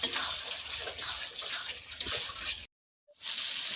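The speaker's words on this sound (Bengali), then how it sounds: "আর দেবো নুন ভালো করে মশলাটা আমি কষে নেব তেল ছাড়লে তবে চিকেন দেবো" Spice paste with tomato and salt frying in oil for a chicken and jackfruit curry, a continuous hissing sizzle with stirring, cut by a brief silence before the sizzle resumes.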